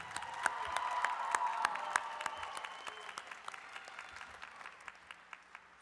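Applause from a graduate commencement crowd at the University of Northern Colorado swells and then gradually thins, many hands clapping in a large reverberant hall, with a few distinct sharp claps lingering as it fades.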